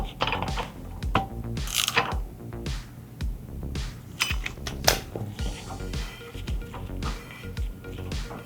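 A hand ratchet clicks in rapid bursts with pauses between, snugging bolts on a 57 Chevy one after another in a crisscross order, close up with metallic clatter and no talking.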